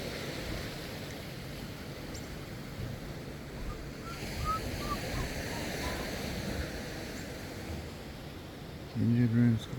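Ocean waves wash and break on the shore beside the old Albany whaling station, a steady broadband roar with gusts of wind; a brief low thump at the very end.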